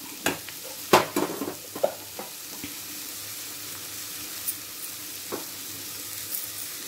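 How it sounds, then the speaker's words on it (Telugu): Vegetables go into hot oil in a pressure cooker with a few sharp crackles and clattering stirs, then settle into a quiet, steady sizzle. "మనం కుక్కర్లో ఇవన్నీ వేసేసుకొని నూనెలో మంచిగా ఫ్రై చేయాలి వీటిని"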